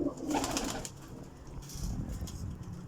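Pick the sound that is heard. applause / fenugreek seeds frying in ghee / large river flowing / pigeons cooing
pigeons cooing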